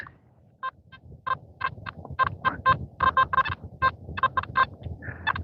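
Choppy, irregular electronic beeps from a metal detector stutter on and off in quick bursts, a mixed signal over trash, over faint outdoor background noise on a winter night.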